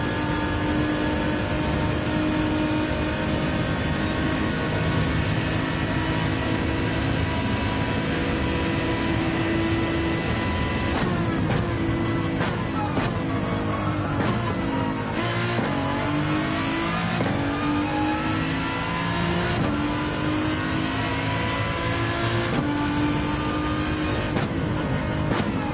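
A heavy, planted race car in Gran Turismo 7 drives steadily, its engine droning loud and continuous with repeated revs and gear shifts during the second half.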